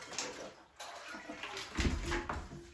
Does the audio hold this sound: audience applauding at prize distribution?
no